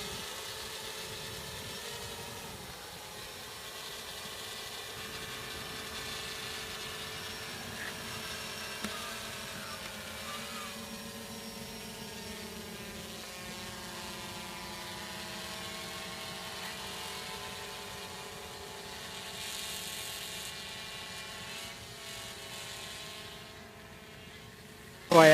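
A Storm Drone 6 multirotor drone carrying a 10400mAh battery hovers and flies in a steady, droning whine that holds at a moderate level throughout, shifting gradually in pitch as it manoeuvres, with no talk.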